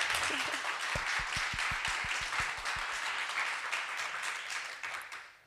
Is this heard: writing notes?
no